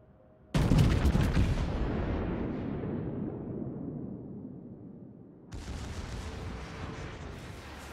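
American battleship guns fire in World of Warships, a huge booming blast that rolls into a long fading rumble, followed by a second heavy report that sustains loudly.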